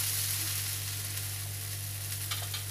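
A mixed-flour dosa cooks on a griddle with a steady, even hiss and a low constant hum beneath it, nearly unchanging throughout.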